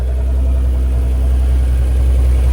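A 1995 Acura NSX idles steadily just after a cold start, with no revving. The engine is close and loud, holding an even, constant low rumble throughout.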